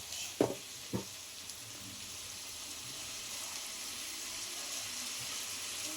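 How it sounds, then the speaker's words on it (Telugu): Carrot, potato, beans and tomato fry in a pan with a soft, steady sizzle, opened by a couple of sharp clatters of vegetables or a utensil hitting the pan. "ఇందులో క్యారెట్, ఆలు, బీన్స్, టొమాటో వేసి ఫ్రై చేయాలి లైట్గా."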